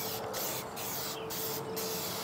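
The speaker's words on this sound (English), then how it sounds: "Spray paint." Steady hiss of spray paint from an aerosol can coating shed antlers, with four short pauses in the spraying over a couple of seconds.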